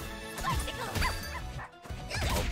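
A dog bark move from the fighting video game Them's Fightin' Herds, a rapid series of yipping barks with impact crashes, loud and busy, in a dense game mix.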